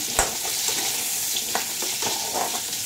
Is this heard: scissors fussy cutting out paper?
no